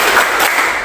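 Grade 7 students in a classroom clap together in a short, loud, dense burst that lasts under a second.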